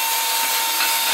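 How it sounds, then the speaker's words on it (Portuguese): A cordless battery-powered electric screwdriver drill runs with a steady, high motor whine and a grinding hiss, close and continuous, with no speech. "eu tô viciado com essa parafusadeira e furadeira elétrica com bateria"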